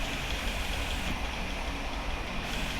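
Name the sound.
car engine running in the video game Granny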